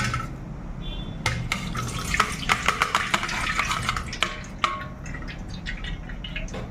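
Liquid trickles and splashes as it drains from pickled mango pieces, with scattered drips and wet clinks, close and moderately loud, over a low background rumble.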